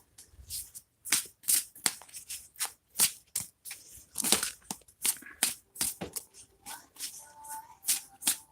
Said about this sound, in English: Sometimes the shuffling is long.